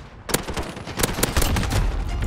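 Rapid gunfire from the Last Warrior gun in Modern Warfare on the Shipment map, a chaotic burst of close, loud shots coming in quick clustered volleys with no talking.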